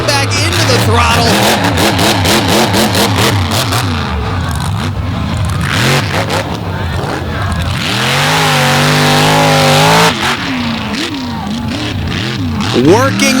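A race car at an All Stars event in Naples accelerates hard around the track, its engine loudly revving and rising in pitch through gear changes, with a commentator talking over it throughout.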